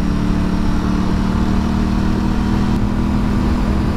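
An Aprilia RS660 twin engine hums steadily while riding, a droning mid-pitched note holding even throughout with no voices.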